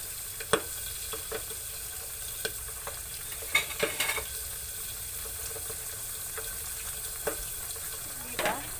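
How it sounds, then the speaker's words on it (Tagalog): Eggplant (talong) frying in a pan gives a soft steady sizzle with scattered clicks and scraping taps of a utensil, fairly quiet and close. "magpiprito na tayo ng talong"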